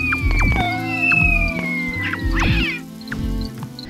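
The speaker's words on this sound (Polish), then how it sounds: "Króliki na przykład miałczą jak koty." Rabbits in the video game Braid give several nasal, meow-like cries that rise and fall over a low droning background, overlapping in quick succession at moderate loudness.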